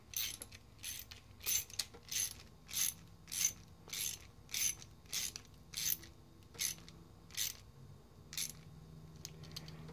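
Steady ratcheting clicks, about a dozen evenly spaced bursts, as screws are tightened on a Traxxas Slash 4x4 slipper clutch, close and fairly faint, alone without speech.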